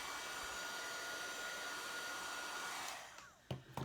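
A hair dryer or heat gun warms wax with a steady, loud blowing whir that runs nearly three seconds and then cuts off, followed by a few faint clicks and handling sounds.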